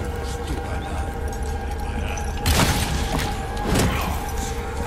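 Two heavy booming hand cannon gunshots a little over a second apart in Resident Evil 4 Remake VR, cutting through a constant droning game background.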